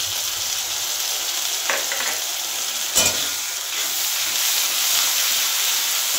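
Two tablespoons of onion paste frying in oil released from a rupchanda pomfret, giving a steady, bright sizzling hiss at close range with a couple of brief crackles and a light scrape.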